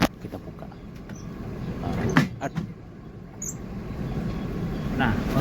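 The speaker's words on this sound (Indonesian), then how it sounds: "Bagasi tertutup, kita buka." The luggage compartment door of a Trans Banten BRT bus is opened with a few clunks and a short scraping slide, close by, while people talk faintly in the background.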